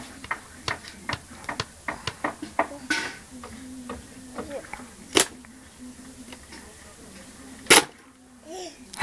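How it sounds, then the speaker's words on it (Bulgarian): A small child taps a nail with a hammer, a run of sharp, quick close knocks at an uneven rhythm that thin out, with a few louder strikes later and voices talking around them. "Чукай да забиш гвоздя!"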